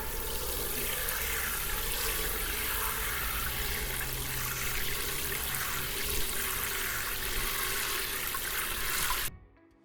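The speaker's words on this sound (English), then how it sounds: "Add water to saturate the stems, making them easy to remove." Water pours steadily into a container of ume plums to soak their stems, a continuous rushing splash that stops abruptly near the end.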